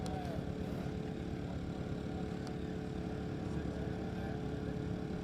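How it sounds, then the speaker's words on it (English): Race car engine at Speedweek, a steady, continuous drone that stays loud and level throughout with a dense low rumble and faint harmonic tones, no talk over it. "Another one of those beautiful sounding vehicles."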